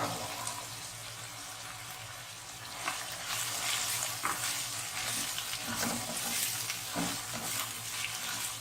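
Green peas are stirred into a pan for matar pulao, frying with a soft, steady sizzle and occasional scraping stir sounds, fairly quiet and close.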